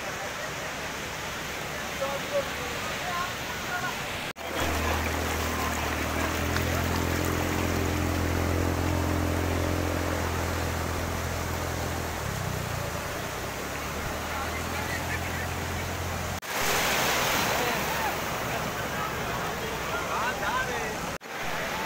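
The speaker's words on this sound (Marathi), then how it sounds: "मित्रांनो पाण्यात चाललोय." Wading through sea water at Ganpatipule beach, a steady broad wash of surf and sloshing water with a low rumbling hum through the middle, continuous and fairly loud.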